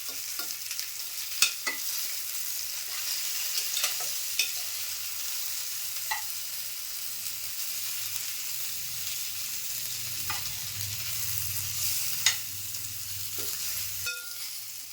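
Eggplant for bharit sautés in a pan for a few minutes, a steady close sizzle punctuated by occasional sharp stirring clicks and a deeper bubbling rumble toward the end.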